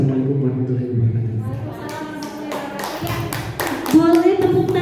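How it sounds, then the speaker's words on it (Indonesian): Scattered audience applause breaks out at a seminar, a few sparse claps building to a denser burst of clapping, mixed with voices talking. "Boleh tepuk tangannya."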